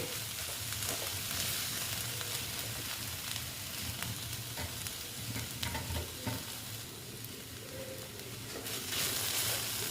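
Data greens sizzling and frying in a pan with broken bori lentil dumplings, a steady close hiss with repeated stirring scrapes and small crackles throughout, no talk.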